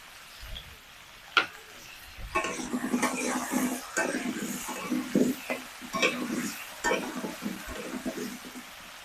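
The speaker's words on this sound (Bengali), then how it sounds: "এবার আলুগুলাকেও ভেজে নিব আলুতে আমি অল্প একটু হলুদ দিয়ে দিচ্ছি" Long-cut potatoes dusted with a little turmeric frying in a pan for a fish curry, giving a close, steady sizzle broken by stirring scrapes and clicks, with a couple of sharp knocks.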